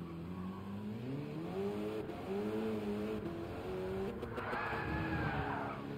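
A Mercedes-AMG spins out in Gran Turismo 7, engine note swooping and wavering under a drawn-out tire squeal that flares loudly near the end, with no talk.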